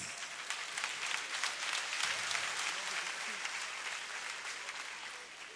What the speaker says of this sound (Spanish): ¿Ese aplauso nada más?